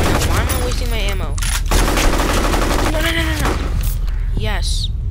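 Gunfire in the F.E.A.R. video game, rapid automatic bursts and loud shots crackling continuously with an excited voice speaking over them.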